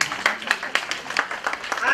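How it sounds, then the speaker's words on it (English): An audience at a Muslim women's civilization gathering claps in a steady patter of scattered hand claps, fairly close and moderately loud, with voices mixed in. "We need to clap for that."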